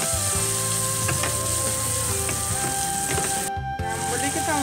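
Prawns dropped into a hot pan for a tempoyak dish sizzle steadily and loudly up close, with a stirring clatter partway through and a constant frying hiss throughout.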